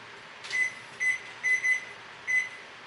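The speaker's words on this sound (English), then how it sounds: "Alright, so I'm going to set my own timer." A kitchen timer set while a raspberry clafoutis is being baked, giving five short, evenly spaced electronic beeps, two of them close together, clear over a quiet room with no talking.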